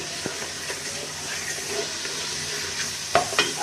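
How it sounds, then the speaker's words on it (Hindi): Chicken frying in a pan over raised heat, a steady soft sizzle and hiss with a few light clatters of stirring near the end, no talk. "थोड़ी सी मैं आँच तेज़ कर लेती हूँ, इसको अच्छी तरह फ्राई कर लेती हूँ।"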